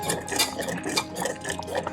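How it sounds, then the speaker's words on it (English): A whisk scrapes and swirls through a thickening, gel-like mixture in a pot on the stove, making steady, close, continuous metallic stirring strokes with light clinks against the pan. "We'll whisk it every now and again"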